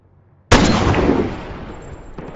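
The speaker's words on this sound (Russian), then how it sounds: "Был произведен выстрел." A single sharp rifle shot cracks out, followed by a rolling echo that trails off over the next couple of seconds.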